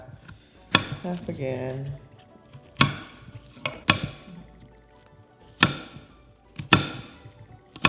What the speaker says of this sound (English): So I'm gonna cut the end part of the cucumber off.